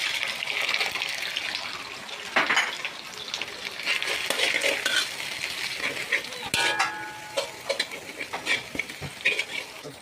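Mustard greens sizzle and are stirred in a hot wok, with scraping of a utensil against metal and intermittent clanks and clatters.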